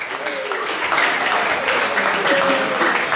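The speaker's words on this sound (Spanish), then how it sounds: "¿Cuántos dan una ofrenda de palmas al Señor?" A church congregation claps during a sermon on marriage: a steady wash of applause, continuous and fairly loud, with voices mixed into the crowd noise.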